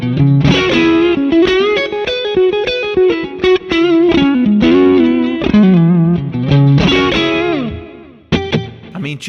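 Overdriven electric guitar through a Sinewave Continuum tube amplifier plays a loud, sustained run of chords and notes with a warm, gritty tone and reverb, briefly pausing near the end.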